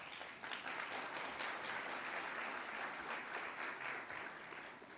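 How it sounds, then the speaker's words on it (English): Audience applauding for a speaker at a national Seal of Excelencia announcement event, sustained bright clapping that swells quickly and stays even before tapering slightly at the end. "So let's give Neera another round of applause"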